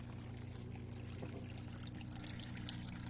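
Small waterfall in a paludarium trickling and pouring steadily, a continuous close watery wash over a low constant hum, with no talking.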